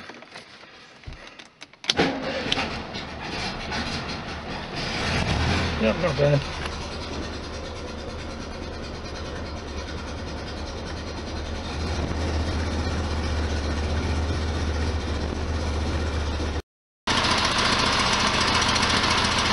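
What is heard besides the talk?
Volkswagen Beetle engine starting and running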